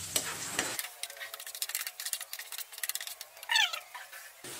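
Hotdog sautéing in a pan, a continuous crackling sizzle with stirring scrapes, preceded by a brief burst of a different noise at the start.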